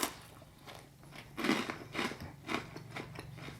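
Crackers topped with Asadero fresh cheese crunched close to the mic in several sharp, crackly bites roughly half a second apart, quiet between chews, with no speech.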